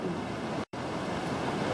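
Surf washes steadily over a weathered lava rock shoreline, filling tide pools with a continuous broadband rush and a brief dropout midway.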